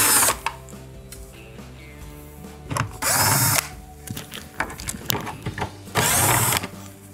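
A power drill backs out the hanger screws on a Whirlpool refrigerator door in short, loud bursts of whirring spaced a few seconds apart, with quieter clicks and handling noise between them.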